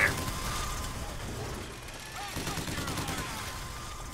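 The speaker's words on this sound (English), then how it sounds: "Can you stop shooting at me?" Rapid gunfire rattles almost without pause in a Bioshock Infinite firefight, dense and continuous, with a voice talking over the shooting.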